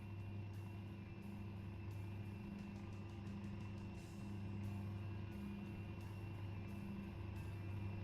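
A truck engine drones steadily in American Truck Simulator, a low, even hum with a few faint shifts in pitch over several seconds, moderately quiet and with no voices.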